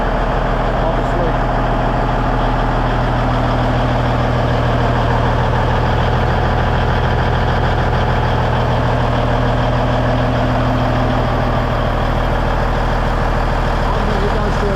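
A heavy Peterbilt truck diesel engine idles steadily and close by, a low rumbling drone with a constant throb that runs unbroken from start to finish.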